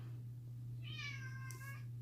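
A single drawn-out cat meow, fairly faint and nearby, over a constant low electrical hum.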